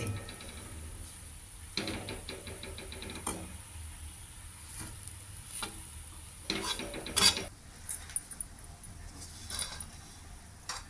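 Chickpea paatoli is stirred and fried dry in a pan, with soft scattered scrapes and clinks against a quiet background.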